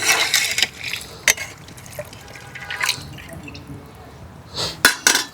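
Water added to a pot of Telangana-style goat head curry, heard as splashing and a few drips with scattered sharp splashes over a steady bubbling wash, close up and with no talk.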